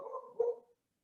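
A dog gives a short, fairly close bark or yelp indoors, lasting under a second and then falling to silence, with no talking over it.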